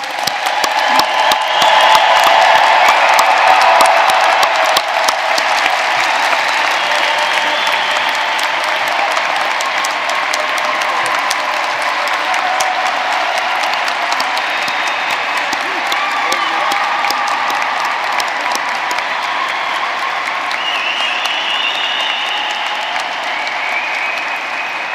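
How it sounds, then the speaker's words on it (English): Hearty audience applause in a hall at the St. George's University 2022 commencement for new veterinarians, loud and dense at the start, then settling into a long steady roar of many hands with scattered cheers and voices underneath. "Let us join in tribute one final hearty round of applause for the world's newest veterinarians."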